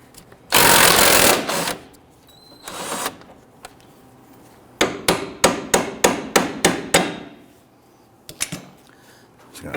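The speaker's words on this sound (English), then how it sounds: "we're going to loosen and remove our tie rod nut." Loud sustained burst of a ratcheting or impact tool on a Dodge Charger tie rod nut with a 21mm socket, then a quick series of about eight sharp, regular clicks as the nut is loosened and removed.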